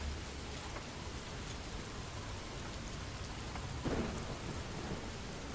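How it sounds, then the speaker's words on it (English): Steady rain with rumbling thunder from the game Oxygen Not Included, a dense, even hiss of falling rain and a low thunder roll swelling near the end, with no voices. "I'm okay with rain sounds during hunting."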